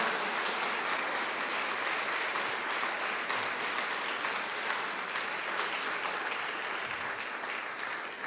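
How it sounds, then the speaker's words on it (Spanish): Sustained applause from a large church congregation during a sermon, steady dense clapping that holds for several seconds without a break. "¿Por qué no le damos un fuerte aplauso al Señor por su gran amor y su gran misericordia?"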